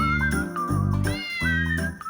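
A cat meowing indoors at home, several drawn-out, tonal meows in a row, loud and close with short gaps between them and no talking.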